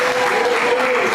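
A congregation clapping in church, a continuous wash of palms held at high loudness under a sustained tonal note, brief and unbroken.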